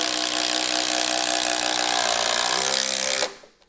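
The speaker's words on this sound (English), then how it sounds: "We're gonna drive our 6" by 1/4" lag fastener down through these 2x4s into this 6x6." An impact driver drives a 6-inch by 1/4-inch lag fastener through 2x4s into a 6x6, a loud, close, rapid hammering rattle lasting about three seconds before stopping abruptly.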